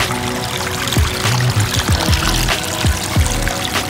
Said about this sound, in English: And it goes up to a waterfall diffuser.